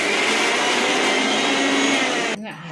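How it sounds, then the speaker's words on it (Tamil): Kitchen mixer grinder whirring loudly and steadily as it grinds banana flower vada batter with onion, then its pitch drops as it slows near the end. "இதே ஒரு சுத்து ஒரு அரைப்பு அரைச்சிடலாம் கொஞ்சம் மைமையாக"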